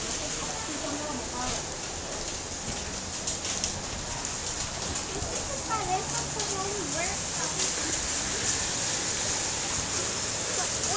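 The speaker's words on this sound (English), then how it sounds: "We just witnessed the rain." Steady outdoor rain hisses and patters on surfaces throughout during a thunderstorm, with faint bird calls scattered in the background.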